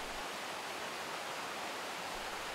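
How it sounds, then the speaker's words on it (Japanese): Fudo waterfall in a forested water-source area, a strong flow rushing down a rugged rocky cliff, heard as a constant dense roar of falling water with no other sounds. "水の流れに勢いがあり、ゴツゴツした岩肌を流れ落ちていく様子は見ていて飽きません。"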